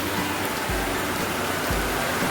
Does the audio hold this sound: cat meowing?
no